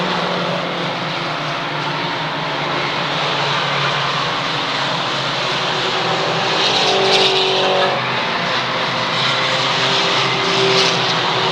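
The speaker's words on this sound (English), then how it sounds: "you can see the top cars already running towards the front" Mini stock race cars roar around the Waterford Speedbowl speedway track in a 1992 feature race, a loud continuous pack of engines droning steadily without pause.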